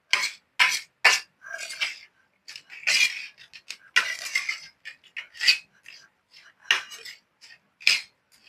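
Prawn pickle stirred in a bowl, a run of short, sharp scraping and clinking strokes coming in irregular bursts, close and fairly loud with brief pauses between.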